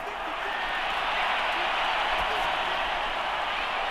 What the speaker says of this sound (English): We're going to give out a little applause on that play.